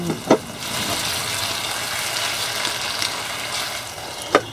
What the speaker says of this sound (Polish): Jak to nasze ziemniaczki. Już skwierczą, skwierczą.